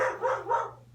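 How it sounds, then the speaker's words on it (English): A dog barks three times in quick succession, loud and close, each bark a short tonal yelp with no other voices. "If you have dogs and my dog is driving your dog crazy, I apologize."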